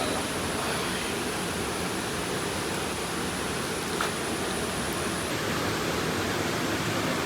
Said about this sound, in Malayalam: കാണുന്ന വെള്ളച്ചാട്ടമില്ലേ